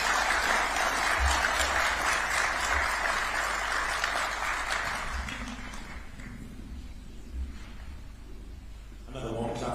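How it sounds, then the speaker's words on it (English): Warm applause for His Excellency after a formal address by the Kenyan president, a broad, steady crowd clapping that gradually fades out, with a voice starting to speak near the end. "Another warm clap for His Excellency."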